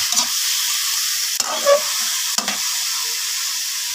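Chicken adobo with eggs bubbling in a pan as it is stirred, a soft simmering hiss broken by two brief scraping stirs of the spoon, close and quiet.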